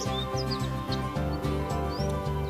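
A golden bird from a children's fairy tale about a princess gives several short, bright chirps and rising whistles over gentle, rhythmic background music.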